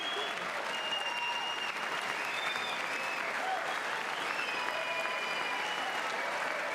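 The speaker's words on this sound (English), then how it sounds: "Oh, they are cheering." A State of the Union audience of lawmakers applauds and cheers, a dense, sustained clapping roar with faint whoops and murmured voices mixed in throughout.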